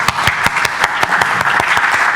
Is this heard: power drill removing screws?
no